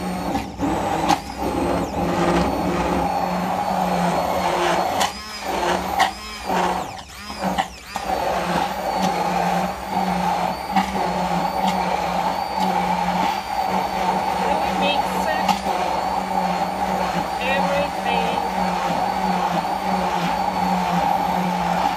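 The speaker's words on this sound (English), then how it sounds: "And with immersion hand blender, off we go." An immersion hand blender purees broccoli cream with a loud continuous motor whir that briefly wavers as it churns, running throughout with a voice talking occasionally over it.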